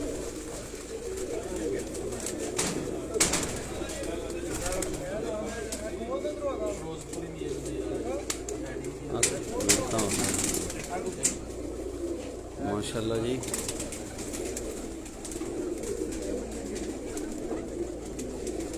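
Batera and Kasuri cross pigeons coo steadily through the whole stretch at a loft in Sialkot, with voices talking over and between the low, rolling calls.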